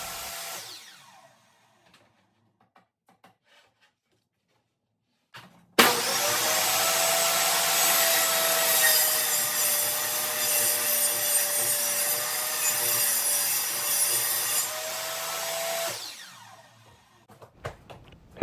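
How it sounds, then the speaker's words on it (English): A power saw roars through a wooden shelf board for about nine seconds, loud and steady with a whining pitch, then winds down and stops. "Right now, I'm just cutting it down to 10 inches."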